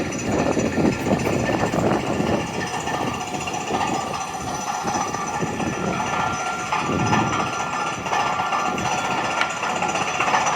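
Drilling rumbles on a downtown construction site with a crane set up: a continuous, moderately distant hammering and engine drone mixed with general street noise, steady throughout with no voices.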